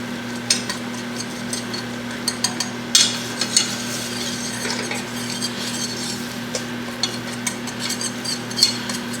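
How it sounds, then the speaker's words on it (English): Flour being whisked into a roux in a pan for a creamy shrimp sauce, a soft continuous scraping and stirring with light metallic ticks of the whisk against the pan over a steady low hum. "And then add your flour, whisk that in. It's almost like making a roux."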